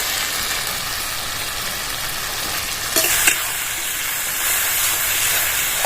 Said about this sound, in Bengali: ভেজে রাখা আলুগুলো দিয়ে দেবো কুচনো টমেটোগুলো দিয়ে দেবো